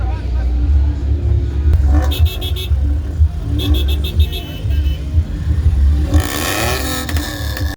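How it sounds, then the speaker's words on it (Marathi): A BMW car engine revs at a drifting track amid a loud, rumbling crowd, with engine whir and clatter throughout and a rising rev burst near the end, under people talking. "तर काय इथं BMW बघू शकता तुम्ही"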